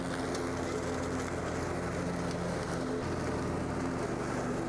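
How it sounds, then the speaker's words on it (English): A Cub Cadet RZT S zero turn ride-on mower drones steadily and loudly as it cuts through long, thick grass and small woody weeds, its engine hum constant and close with no pauses. "The mower even cut through some of those smaller woody weeds without issue."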